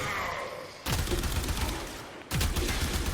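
The Acceltra Prime gun in Warframe fires two loud, rapid bursts, each a dense volley of explosive shots with a short gap between them.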